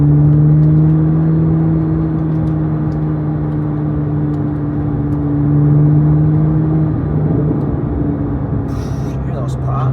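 Chevrolet Corvette Z06 rental car accelerating on rough roads, a loud steady engine drone and exhaust rumble filling the cabin, with brief crackling pops near the end.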